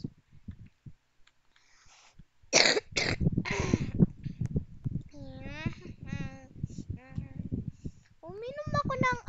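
A person coughs in a few harsh bursts near the start, followed by other voices talking and squeaky, high-pitched vocal sounds.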